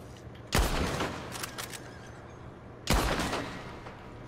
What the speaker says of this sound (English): Why is this guy shooting people now?